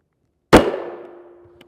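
Single shot from a CZ Scorpion Evo 3 S1 short-barreled rifle striking a rigid UHMWPE Level IIIA armor plate, a sharp loud crack followed by a ringing metallic decay and a faint tap at the end.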